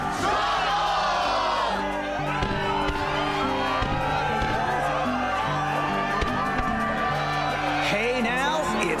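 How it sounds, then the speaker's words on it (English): Crowd cheering and whooping in the Kingdom Hearts 2 video game, a loud, continuous roar of an arena audience under game music, sustained throughout. "the crowd is fired up"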